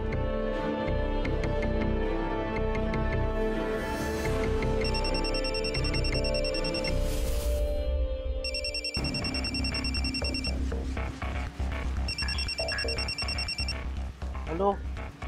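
A telephone ringtone chirps in repeated bursts from a Marathi TV serial scene, sitting under background music and talk as a call is placed.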